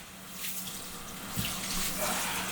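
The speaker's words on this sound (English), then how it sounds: "clean the royal basmati rice" Tap water running into a sink while royal basmati rice is rinsed for a large Holi meal cooked for over 200 people, a steady splashing rush that grows slightly louder, with faint background talk.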